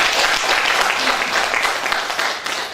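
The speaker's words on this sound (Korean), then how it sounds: "큰 축하의 박수 부탁드리겠습니다." Congratulatory applause from the audience at a national poetry recitation award ceremony, a full, even burst of many hands clapping that holds steady and then eases slightly toward the end.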